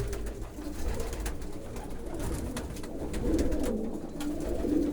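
Vienna pigeons in a pigeon loft coo in low, throaty, rolling calls that run steadily throughout, close by and moderately loud over a constant low rumble, with no talk.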